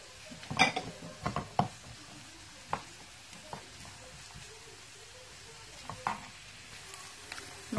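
Onions and sweet peppers fry in a pot with a soft, steady sizzle, broken by a few close clinks and scrapes as a utensil stirs them, then quieter cooking.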